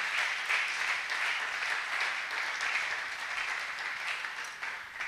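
A church congregation applauds during a service, a steady sustained wash of clapping from many hands that holds at an even level throughout, with no voices standing out.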